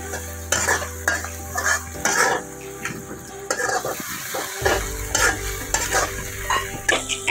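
Ground coriander and chili powder being stirred in a sizzling pan for a spicy beef curry, with repeated scraping strokes of a utensil against the pan over a constant frying hiss, close and fairly loud.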